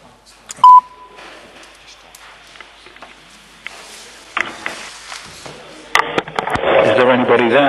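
Electronic telephone dialing beeps sound while a conference call connects during a council meeting, with a sharp tone early on followed by a busier stretch of line noise and tones, and voices faintly present.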